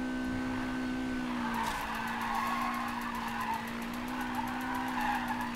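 A car drifting in a street racing video game, tyres skidding in a long sustained squeal over a steady engine drone, loud and close throughout, with no talk.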